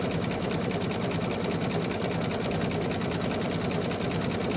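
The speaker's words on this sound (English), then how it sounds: "it's just going to stitch up the other side of the pole" An embroidery machine stitches a dress boutique hanger design, working up the side of a pole in the pattern. Its needle chatters in a fast, loud, constant rhythm from start to finish.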